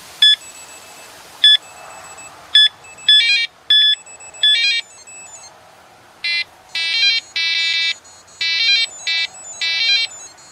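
A carp fishing bite alarm in demonstration gives bursts of sharp electronic tones, first single beeps at spaced intervals, then faster runs of repeated tones, loud and close against near silence.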